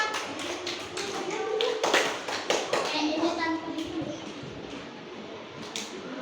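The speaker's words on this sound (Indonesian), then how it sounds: "beri aplaus untuk kelompok 3" A classroom group applauds with sharp, overlapping hand claps near the mic. Children's voices are mixed in, and the claps are loud and irregular before thinning out.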